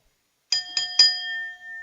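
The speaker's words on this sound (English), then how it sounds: "There goes the bell." A wrestling ring bell strikes three times in quick succession at a wrestling event, the last clang ringing on with a long sustained tone that slowly fades.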